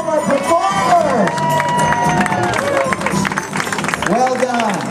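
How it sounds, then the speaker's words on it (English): A crowd at a Disneyland Lunar New Year stage show cheers and claps for performers, loud sustained applause with whoops and shouts throughout, close and dense. "A big cheer for all of our performers."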